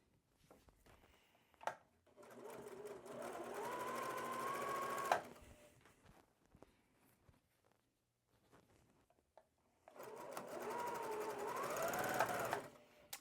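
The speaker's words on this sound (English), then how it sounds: "staying focused on just this column series of sewing" A sewing machine stitches long columns of a scrap quilt in two sustained, close-up runs of steady whirring, separated by a quiet pause with faint handling sounds.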